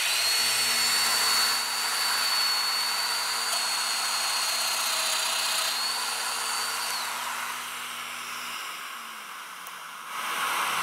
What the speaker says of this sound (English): Now I'll cut the mortises in the second panel